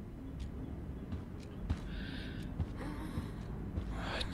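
A character in the Life is Strange video game breathes heavily and laboriously, with faint, quiet gasping breaths repeating over a soft background hiss.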